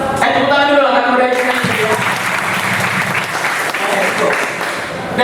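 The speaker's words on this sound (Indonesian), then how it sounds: "Tepuk tangan dulu lah kan udah." Audience applause during a seminar talk on interpersonal skills, a loud, steady wash of clapping from a roomful of people, with a voice speaking over it at the start.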